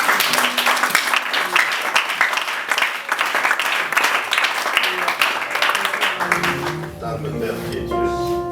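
A church congregation applauds loudly and continuously in dense, crackling clapping for about six seconds, then it gives way to sustained musical tones.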